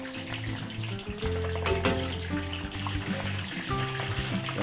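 Batangas style embutido frying in a pan, a steady close sizzle and crackle running throughout with louder spitting bursts partway through, no voices.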